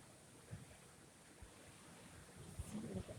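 Ocean surf at Kaanapali, West Maui, rolling in under steady wind with gentle low rumbles and a stronger wave wash building toward the end, heard from nearby without any talking.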